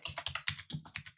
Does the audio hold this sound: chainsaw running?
no